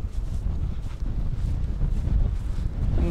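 Strong wind buffets the microphone beside a lake while spinner fishing from the bank near reeds, a steady loud low roar filling the whole stretch with no pauses.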